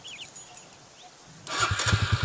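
Quiet background at first, then a vehicle engine abruptly starts and settles into a throbbing, chugging idle close by as the people leave.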